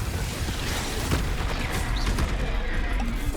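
A Confringo fire spell bursts in Hogwarts Legacy, a loud, dense blast of crackling impact noise that fills the whole moment amid ongoing combat clatter.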